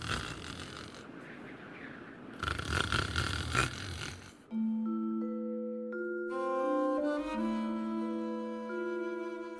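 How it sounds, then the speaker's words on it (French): A man snoring in a tent during a cold night on a high mountain climb, with rough, raspy breathing swells that give way to a sustained tonal drone, fairly close. "Mais Chris finit par s'endormir, et Doug l'entend ronfler."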